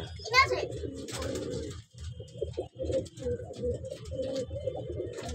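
Pigeons kept by a hobbyist coo in soft, repeated low rolling calls close by, a steady murmuring flock with a voice talking over them.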